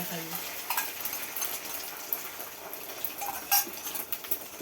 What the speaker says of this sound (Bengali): ডিম ভাজছে